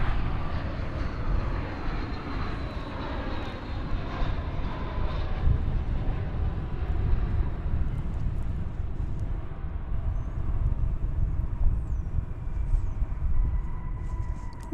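An American Airlines jet arriving from Mazatlan at DFW Airport produces a distant, steady rumbling engine roar with a faint high whine, sustained without talking.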